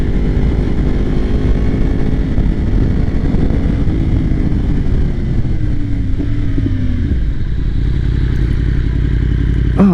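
A Yamaha R1 motorcycle ridden on the road near Redondo Beach, California: a loud, close engine drone whose pitch rises and falls as it revs and shifts, with steady wind rush and no voices.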